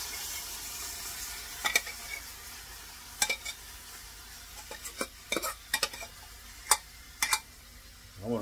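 Beans go into a pan for chambre and are stirred, giving scattered scraping clinks of a spoon against the pan over a faint sizzle, fairly quiet and close.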